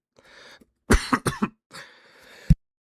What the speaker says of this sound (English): I had to cough and sneeze at the same time.